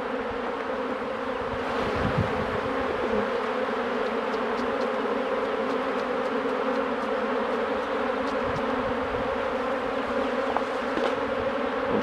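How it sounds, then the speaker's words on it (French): Honeybees being brushed off hive frames during hive work make a dense, steady, close buzzing drone that stays loud and unbroken throughout with no voices. "Je brosse les abeilles."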